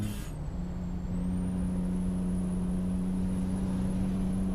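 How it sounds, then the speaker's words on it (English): Truck gear change in the video game American Truck Simulator, a brief pneumatic hiss from the splitter at the start giving way to a steady, droning engine hum with a faint high whine above it. "it actually sounded a really good gear change. Pneumatics on the splitter."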